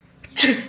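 A person sneezes once, close and loud, a short sharp burst with a brief intake of breath just before it.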